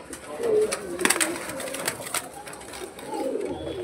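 White heavy booted pigeons of a Kerala imported line coo softly in a loft, with low rolling calls under sharp clicks and shuffling, nearby and moderately loud.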